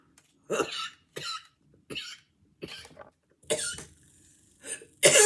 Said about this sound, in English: Damn, I was trying so hard not to cough.